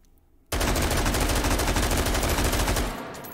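An AR-18 rifle fitted with a muzzle brake fires a rapid full-auto burst in the H3VR virtual reality game, loud dense cracks running for about two and a half seconds after a quiet start, then trailing off into fading echo.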